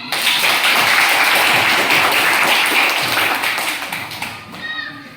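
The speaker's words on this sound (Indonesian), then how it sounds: "Tepuk tangan." Students clapping in a classroom during a science lesson, a burst of quick, loud group claps that taper off after a few seconds, with faint voices at the end.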